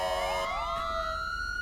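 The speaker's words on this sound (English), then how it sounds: "Code 3 is gonna be lights and sirens." A police car siren in FiveM, a GTA V mod game, rises in a rapid wailing sweep, close and loud, then holds a high steady tone.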